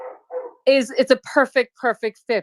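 Dog barks repeatedly in short, sharp yips close by during a live audio chat, overlapping with a man's speech.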